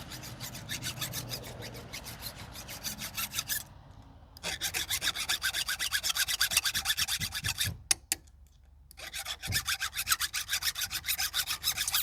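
A file rasps across chainsaw teeth fitted with a raker gauge, close, rhythmic strokes in quick bursts with brief pauses between sets.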